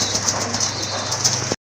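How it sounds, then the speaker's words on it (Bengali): A pair of racer pigeons coo softly in a cage, low repeated murmurs under a steady background hum, ending abruptly. "প্রথমেই দেখতে পাচ্ছেন আপনারা এক জোড়া রেসার কবুতর।"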